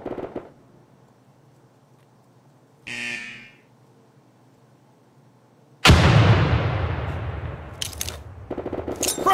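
In the America's Army 3 video game, an M67 frag grenade goes off with a sudden loud blast and a long rumbling decay, after a short metallic rattle and some quiet background.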